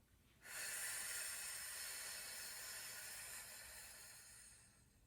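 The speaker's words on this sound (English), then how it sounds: "breathe in and breathe out." A long, steady breath drawn in and released during a pregnancy core exercise, heard as a close, airy hiss that starts abruptly and slowly fades over several seconds, with no talking.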